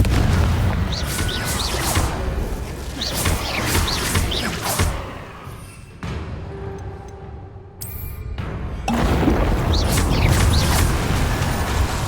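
Confringo explosive spells cast during Hogwarts Legacy gameplay, heard as booming blasts and mechanical impacts in a busy game soundscape, with a short quieter gap midway before the loud effects return.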